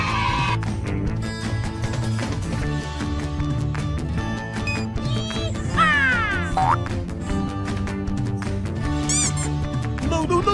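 Yellow duck toy in a children's animal-toy naming sequence, squeaky quacking calls over busy, loud background music, with several chirpy squeaks scattered across the stretch.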